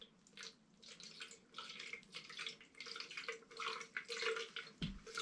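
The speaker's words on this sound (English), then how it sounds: "give the seeds a tiny bit of watering, this top soil here" Water trickles and splashes from a plastic spout onto seeds in topsoil, a soft gentle pouring that comes in uneven bursts, quiet and close, with a faint thump near the end.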